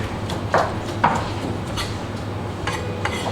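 A sharp knife chopping spring onions into thin julienne on a board, heard as a few crisp taps spaced irregularly, close and moderately loud against quiet kitchen background.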